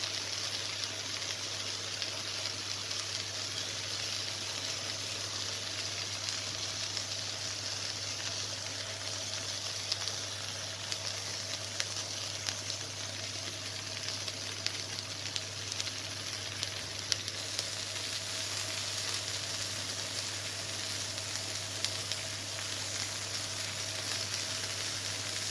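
Steady, continuous sizzling of oil and lemon dressing poured over grilled tubara fish, a dense frying hiss that runs unbroken for the whole stretch with faint bubbling crackles and no voices.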